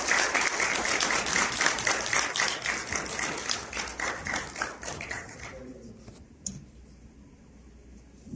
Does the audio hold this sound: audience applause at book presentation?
yes